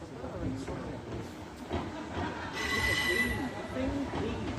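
Train passing through Chester station, a steady rumbling roll of wheels on rails with a faint high squeal, moderately distant and continuous throughout.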